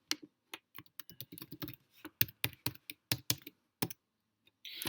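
Someone types on a computer keyboard to fill in an online account form, with close, crisp keystrokes in quick irregular bursts and short pauses between them.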